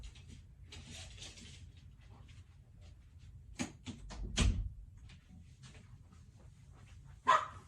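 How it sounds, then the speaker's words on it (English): A dog barks somewhere in the background of an indoor room, a few short, moderately loud barks clustered together and one more a few seconds later, with quiet room noise and no talking in between. "Sorry if y'all hear my dog in the background."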